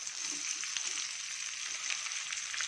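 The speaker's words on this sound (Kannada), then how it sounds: "ಇದು ಚೆನ್ನಾಗಿ ಫ್ರೈ ಆಗಲಿ." Crushed garlic and onion fry in hot oil with green chillies, giving a steady, bright sizzle close up and a few soft stirring scrapes underneath. No one speaks.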